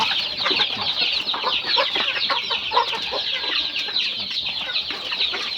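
Several young chickens cluck busily and continuously up close, a dense chatter of short, sharp clucks overlapping without pause.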